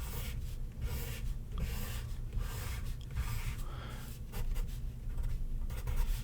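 Pen drawing caterpillars on paper, close scratchy strokes in short repeated bursts with small pauses between, steady and fairly quiet with no talking.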